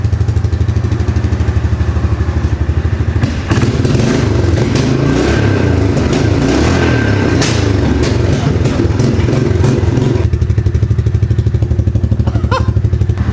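A worn marketplace ATV quad with a rear differential problem idles, then revs hard several times in a loud, close burst before settling back to a steady idle with some clattering.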